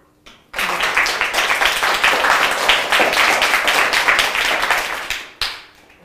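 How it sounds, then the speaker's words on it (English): A classroom of fifth-grade children in an English lesson claps together in a dense, steady burst, loud and close, running about five seconds before stopping abruptly. "Shall we clap?"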